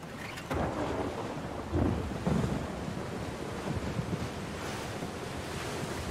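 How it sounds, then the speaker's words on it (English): Large ocean waves surge and crash in The Last of Us Part 2, a loud, continuous roar with heavier swells building and breaking, mixed with wind. "Holy crap, those waves out there look pretty big."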